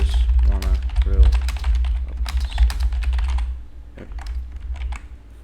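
Rapid clicking keystrokes on a computer keyboard as text is typed, close and fairly steady with irregular bursts over a low background hum, with a voice briefly present.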